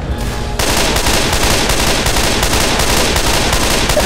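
Rapid automatic gunfire from the Left 4 Dead 2 zombie shooter on a custom map, loud and dense, with a burst of quieter noise before a sustained barrage that continues without pause.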